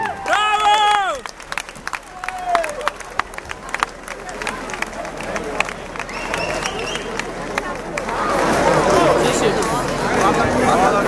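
At a 2013 boxing match, a commentator talks over crowd noise while the spectators' chatter swells into broad, building applause in the final seconds, fairly loud and diffuse.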